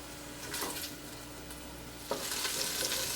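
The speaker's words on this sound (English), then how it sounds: "we're just going to allow this to fry until it develops a little bit of color and the fat starts to melt" Meat fat sizzling as it fries in a soup pot for pasta e fagioli, a soft, steady crackle with a quick scrape of stirring partway through, quiet and close with no voices.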